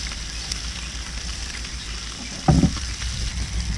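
A blackened redfish fillet sizzling on a barbecue, a steady close hiss of frying with a brief louder crackle and scrape as a wide spatula moves it.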